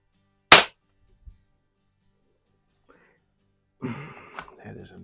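A Gamo PR-45 target air pistol fires a single sharp, close crack in a garage, followed by a faint tick and quiet, then a voice speaking.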